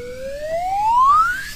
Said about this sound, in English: party siren on reverb